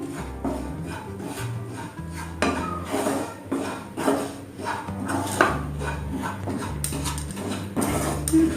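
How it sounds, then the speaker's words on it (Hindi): Coriander roasting in ghee is stirred in a pan, giving a continuous close scraping and clinking of spoon against metal with occasional sharper knocks. "धनिया को ऐसे हम भुनेंगे।"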